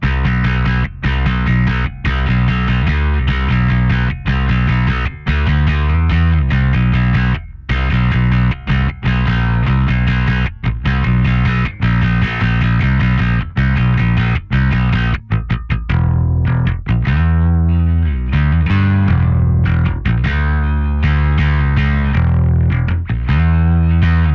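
Bass guitar through a drive pedal into an Ashdown Rootmaster EVO III amp: gritty, overdriven notes and chords played in a steady groove, loud and close, with no talking.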